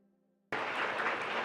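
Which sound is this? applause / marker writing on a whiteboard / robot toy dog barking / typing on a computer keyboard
applause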